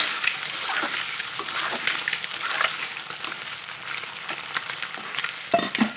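Eggs fry in hot oil with turmeric, giving a steady close sizzle with crackles and pops and some stirring scrapes toward the end; nobody talks.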